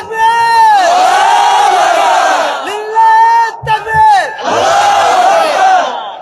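A large crowd at an Islamic sermon gathering roars the takbir in loud, sustained chanted unison. The cries come in long sweeping waves with brief breaks between them.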